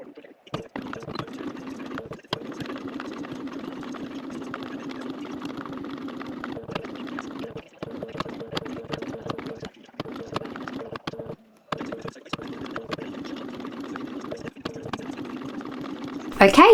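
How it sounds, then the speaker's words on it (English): A sewing machine stitches steadily along a strap for a Shamballa Route 1970 bag, running in long even bursts with a few brief pauses, close and clear, with some handling noise. "I have stitched down, across and back up."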